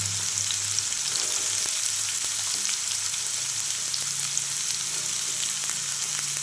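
Carrots and beans frying in a pan for a vegetable masala dalia give a steady, dense sizzle that holds at even loudness throughout, with no voices.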